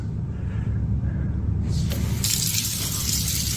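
Water running steadily from a tap into a sink, a continuous low rushing gush that brightens into a louder hiss partway through, with no talk.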